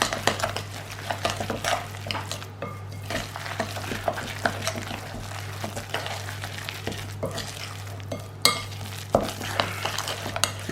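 Ingredients being stirred together in a bowl, with steady scraping and frequent light clinks of a utensil against the sides, over a constant low hum.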